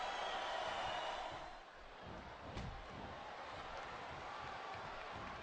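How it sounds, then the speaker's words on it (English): Broad wash of arena crowd noise in a wrestling video game, a steady roar of a capacity audience with a brief thump partway through, continuing at an even level throughout. "It sounds like this capacity crowd has something on their minds."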